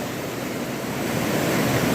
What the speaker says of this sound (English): One of many falls we're going to see today. This is all water that's coming out of that pond,